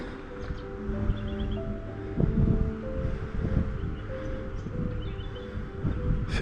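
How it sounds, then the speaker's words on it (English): At a water treatment plant near a dam, water pours steadily into tanks, a continuous broad rushing wash with light outdoor wind and rustle heard from a short distance. "Filtering a lot of water at the moment. You can hear it's being put into the tanks."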